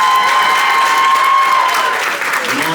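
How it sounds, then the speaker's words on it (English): A comedy club audience gives itself a loud round of applause on cue, dense continuous clapping and some cheering filling the room, steady throughout. "give yourselves a round of applause"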